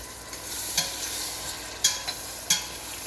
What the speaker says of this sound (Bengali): এই মশলাটাকে এখন আমরা ব্লেন্ড করতে থাকবো।